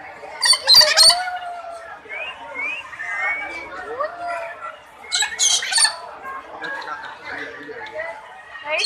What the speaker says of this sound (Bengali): এটা কাকাতুয়া ঠিকই আছে।